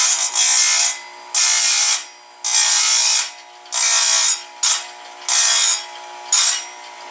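A Stihl USG sharpener grinds a hedge trimmer blade in a run of short, loud rasping passes, each lasting under a second and separated by brief gaps, with a low motor hum running continuously underneath.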